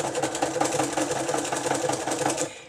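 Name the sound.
sewing machine stitching with white cotton thread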